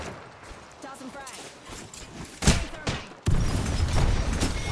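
A frag grenade is tossed in the Apex Legends video game: a few scattered thumps and shots, then a sharp blast that swells into a loud, sustained roar, with voices faintly underneath.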